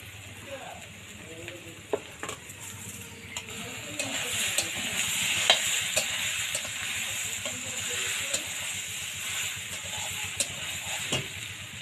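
Soybean chunks fry in oil in a home kitchen pan, giving a steady broadband sizzle and hiss with a few scattered clicks and clinks from stirring, no talk over it.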